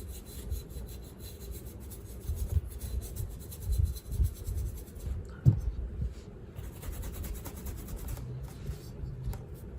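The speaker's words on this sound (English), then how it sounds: "And we're dry brushing this on." A brush is dry-brushed onto a ceramic gnome, giving soft, close scratchy rubbing strokes that come in irregular bursts with small taps, all at low level.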